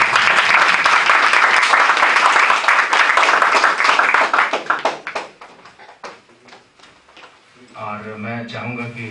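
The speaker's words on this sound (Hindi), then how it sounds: "इनके लिए भी जोरदार तालियां।" Loud, dense applause from an audience at a National Youth Day event at RKFMA fills the first several seconds, then thins into scattered claps and fades; a voice begins speaking near the end.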